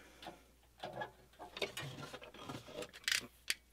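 A sewing machine top stitching a fabric bag, a quick, uneven run of close mechanical clicks and whirring needle strokes, near and fairly quiet.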